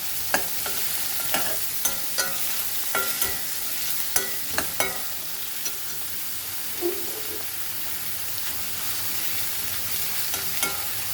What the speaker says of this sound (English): Fry this onions nicely.